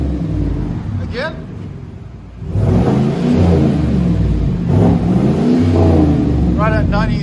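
A 2020 Chevy Silverado with a 5.3L V8 and Flowmaster Flow FX exhaust, resonator retained, is revved outdoors in wind. A quieter stretch leads into loud, close revs that hold to the end, with brief voices in between.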